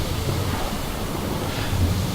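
Big sea waves in the video game Assassin's Creed Odyssey, a loud, steady surging roar of water and wind filling the scene with no voices.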